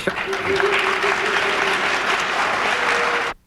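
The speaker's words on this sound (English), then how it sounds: "Applause, please." Applause from the audience at the 1984 presidential debate between Reagan and his challenger: broad, continuous clapping from a large crowd in a hall, steady for about three seconds before cutting off abruptly.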